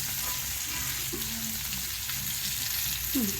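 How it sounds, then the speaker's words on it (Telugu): Fish fries in a pan with a steady, close crackling sizzle, a few brief bubbling flares in the oil, and low voices faintly in the background. "అలా ఫ్రై అవుతుంటుంది, అలా మంచి తిప్పుకుంటూ అటు ఇటు తిప్పుకుంటూ ఫ్రై చేసుకోవాలి"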